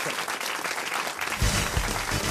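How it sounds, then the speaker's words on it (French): A studio audience at a French radio comedy show bursts into steady, dense applause that swells louder in its second half, with no talk over it. "On vous applaudit"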